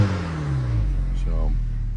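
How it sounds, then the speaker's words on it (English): A 2024 Acura Integra Type S engine gives a short, close rev whose pitch falls back toward idle, with a brief voice cutting in over the steady engine drone. "I'll give it a little rev for you. Maybe you can hear it."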